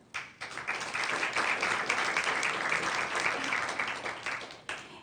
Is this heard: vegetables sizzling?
no